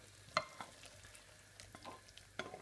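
Smoked salmon, mushroom and cream sauce being stirred through pasta in a pan, with soft scraping strokes and a low simmering sizzle, a few sharper clinks of the utensil against the pan standing out.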